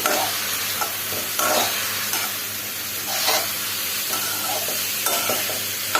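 Mixed vegetables with tomato sauce and cumin powder are stirred as they fry in a pan for chow mein noodles. A steady close sizzle runs throughout, with periodic scraping stirs.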